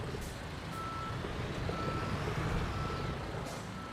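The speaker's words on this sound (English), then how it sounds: "I'll just reverse this truck and park it at halfway" A truck in Construction Simulator backs up with its reversing alarm beeping steadily under a low diesel engine rumble, close and continuous throughout.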